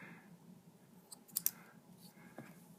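Barber shears trimming a person's hair give a few soft, quiet snips spaced out over a few seconds against a low background hum.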